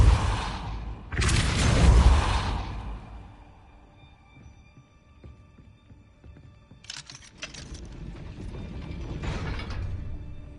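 Gate mechanism raising in the video game Hogwarts Legacy, with grinding gears and ratcheting clanks in two louder bursts separated by a quieter stretch of creaking machinery and rattling.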